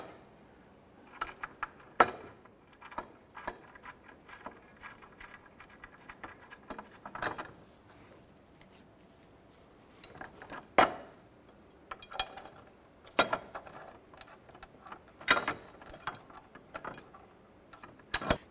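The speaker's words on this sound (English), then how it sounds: "Let's go ahead and get all three of these bolts started." Bolts being started by hand into a rear trailing arm on a 2006-2013 Chevrolet Impala, with anti-seize on the threads: close, intermittent metallic clicks, clinks and brief ratcheting bursts scattered across a quiet background, no talking.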